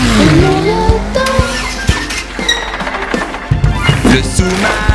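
A car engine accelerating as a sound effect in a French children's song, a loud rising rev up front followed by sputtering engine noise mixed with music and voices.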